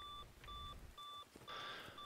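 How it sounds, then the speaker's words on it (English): An alarm beeps in the video game Jaws of Extinction, evenly spaced electronic tones, about five quarter-second pulses in a regular on-off rhythm, clear and close. "I don't know why it keeps beeping."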